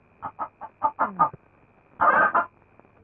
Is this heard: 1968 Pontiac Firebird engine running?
no